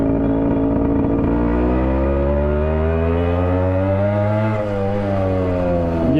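A Yamaha RX100 motorcycle ridden through traffic, its two-stroke engine giving a loud, close, continuous buzzing drone that rises and dips slightly in pitch as the throttle changes.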